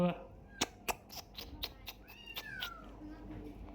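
A black kitten meows several times in short, high, rising-and-falling cries close by, with people talking around it throughout.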